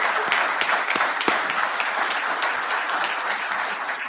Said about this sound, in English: Can I get a round of applause for my wife there?